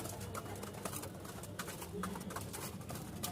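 Lahori Sirazi pigeons at a pigeon market in Mirpur-1 coo softly and continuously amid a busy, noisy market background with general crowd bustle.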